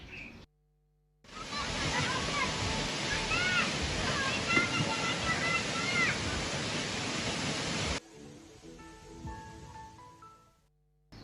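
A waterfall with a pool below where visitors swim, in Bali, roars as steady broadband rushing water for several seconds, loud and close, before it cuts off to quieter ambience.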